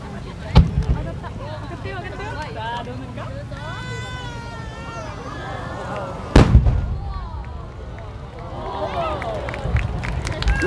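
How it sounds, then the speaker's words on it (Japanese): Fireworks shells from Kita-Nihon Hanabi Kogyo of Akita bursting at the 2012 Kamakura Fireworks Festival: two sharp, loud booms about six seconds apart, heard under a continuous announcer's voice and crowd babble. "秋田県の北日本花火工業による白キラー緑飛行士引き裂き青紅です。"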